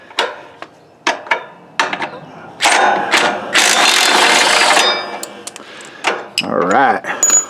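A ratchet wrench works a 14 mm nut on a Cub Cadet GT 3200 tractor with close metallic clicks and scrapes, then longer bursts of mechanical grinding and ratcheting, with no clear talk.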